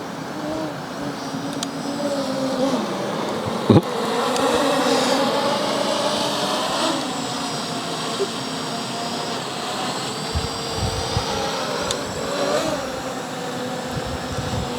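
A Holystone HS720G quadcopter drone flies overhead outdoors, its high buzzing motor whine continuous and wavering in pitch as it moves, fairly close and steady for the whole stretch with no talk.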